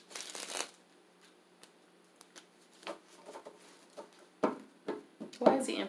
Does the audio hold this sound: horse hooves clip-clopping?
no